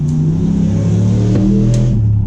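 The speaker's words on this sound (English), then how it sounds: "That is a loud ass car." A loud car accelerates past nearby with a heavy, droning engine rumble that holds steady and strong throughout.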